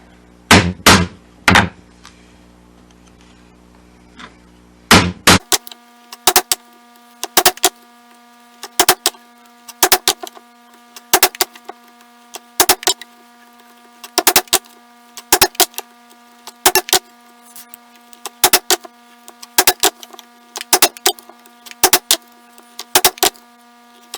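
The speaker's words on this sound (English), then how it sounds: "If you want to start with your chisel right at the end and start working your way that way" A chisel chops a mortise into wood by hand, with a few sharp strikes and then a long series of evenly spaced mallet blows ringing with a hollow wooden resonance, loud and close.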